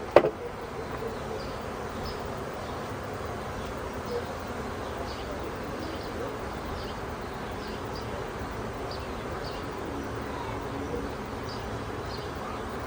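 A honey bee swarm gathered in a hotel doorway buzzes steadily, many bees droning at once in a soft, continuous hum with individual bees flitting past, a sharp knock at the start and no talk.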